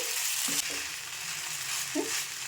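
Shavige uppittu, a vermicelli dish, is mixed in a pan after lemon juice is added, with a continuous frying sizzle and a few soft stirring scrapes close by.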